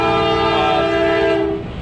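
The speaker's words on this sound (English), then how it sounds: "And there's our train." A passing train sounds a loud, sustained horn blast close by, with rail rumble underneath, then the horn cuts off and the rumble goes on.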